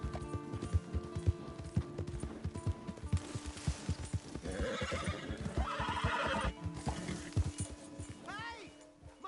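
A horse in a PS4 video game whinnies loudly amid a steady clip-clop of hooves, while characters' voices talk over the scene.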